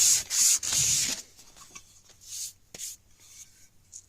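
An old wooden gunstock is sanded by hand with fingertips, giving a loud rapid scrubbing burst followed by several fainter, scattered rubbing strokes and near-silent gaps.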